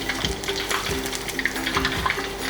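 Shrimp cutlet for an Ebi Filet-O burger frying in hot oil, a close, steady sizzle with crackling bursts and a few soft pops, no talking.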